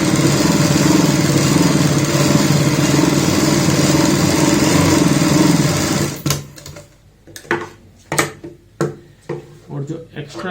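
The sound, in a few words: sewing machine stitching a baby frock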